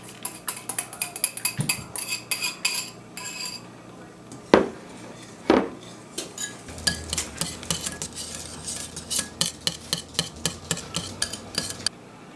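Evaporated milk and butter blended together in a bowl, with rapid rhythmic clinking and scraping of a utensil against the bowl, two louder knocks partway through, close by with no talking.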